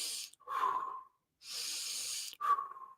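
One person breathes slowly and audibly during a guided breathing exercise. Close, airy inhales and exhales alternate, separated by short silent pauses.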